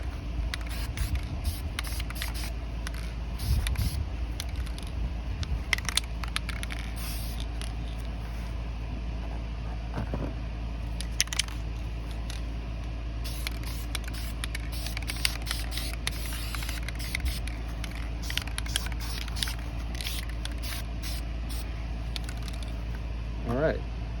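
Dupli-Color vinyl and fabric spray paint hisses in repeated short bursts as it coats the center console of a 1988–91 Honda CRX, close up, with a person talking between bursts.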